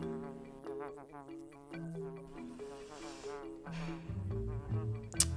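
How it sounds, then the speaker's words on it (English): A fly buzzes with a thin, wavering drone that rises and falls in pitch, sustained over several seconds before a rougher, louder passage near the end. "It is a fly, not a bee."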